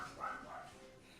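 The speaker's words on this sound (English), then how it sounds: "Dogs." Dogs barking in a Pokémon game on Route 22 while hunting shinies: faint, low yips and barks that rise and fall briefly under a hazy background.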